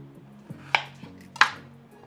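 Knife strikes through shallots on a cutting board, two sharp distinct chops about half a second apart, close and fairly quiet over a low steady hum.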